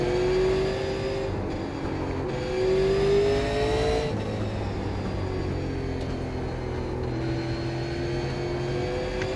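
Super Late Model race car in the iRacing sim, engine held at high revs and pushed hard, a loud continuous whine with gentle pitch rises and dips as it shifts load, running alone without talk.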